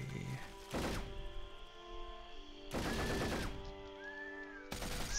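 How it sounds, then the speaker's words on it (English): An anti-aircraft battery fires in the 2004 Axis & Allies game during an invasion of Hawaii, letting off three loud rattling bursts of rapid gunfire spaced about two seconds apart, each ringing briefly over a low battle hum. "Another anti-aircraft battery there. Yeah, it is gonna shoot it."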